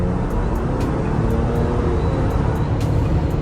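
A Ford Bronco with the 2.7 engine driving and picking up speed on a back road, a steady broad engine and road rumble heard from inside, loud and continuous with faint ticking above.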